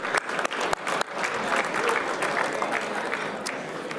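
Applause at a 2016 China General Chamber of Commerce USA annual gathering, opening with a few sharp separate claps that quickly merge into a full, steady round from the room.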